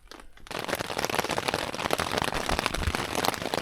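Rain falls on a lakeside campsite in the Pecos Wilderness, starting abruptly and settling into a dense, steady patter of close drops hitting surfaces.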